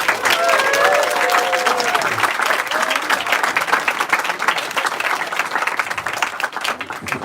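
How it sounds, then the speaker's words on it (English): A crowd applauds at the RoboSub 2023 awards ceremony with dense, sustained clapping and some cheering throughout, close and loud, tapering slightly toward the end. "So give yourselves a round of applause."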